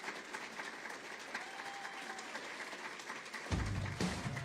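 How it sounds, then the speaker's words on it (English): Audience applause fills the room at a public speech event, a fairly distant and faint wash of clapping that continues steadily, with a louder handling thump near the end. "And also a big round of applause for former Senator Roy Blunt"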